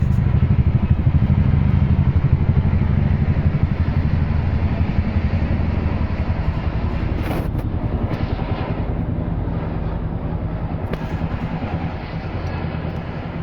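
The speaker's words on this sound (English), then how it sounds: "Now like the sound of the Chinooks flying over, they are just epic." Chinook helicopters pass overhead as a loud, continuous low throbbing rumble with rapid rotor pulsing, easing slightly in volume toward the end; no voices.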